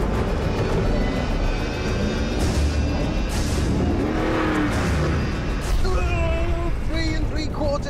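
A Mercedes-Benz G 63 AMG 6x6 climbs big desert sand dunes, its engine roaring continuously and loudly under strain with shifting revs throughout.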